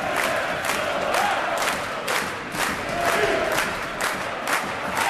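Away fans cheer at an ice hockey playoff game between Brynäs and Nybro, a dense arena roar that swells in repeated, rhythmic chant-like bursts with no talking.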